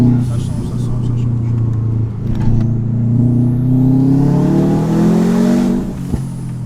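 Stage 3 Subaru WRX Impreza of over 350 hp with its engine revving: a loud, steady rumble that rises in pitch, with people talking throughout.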